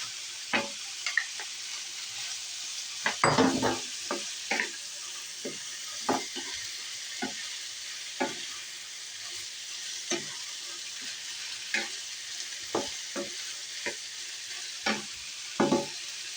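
Pork shoulder sizzles and fries in a pan with sliced bitter melon. A steady hiss runs throughout, broken by sharp scrapes and clinks of stirring at irregular intervals, close up and with no talking.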